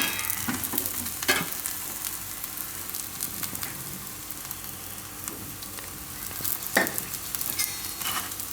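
Spinach and sesame thepla flatbread roasting on a hot griddle, giving a soft, steady sizzle with occasional faint scrapes and taps of a spatula, fairly quiet and with no talking.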